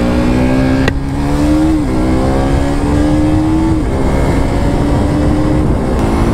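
KTM RC200 BS6 motorcycle engine droning steadily while riding, a loud close buzz whose pitch rises and settles through a few gear changes, with no talk over it.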